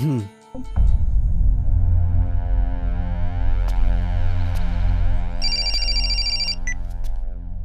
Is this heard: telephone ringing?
yes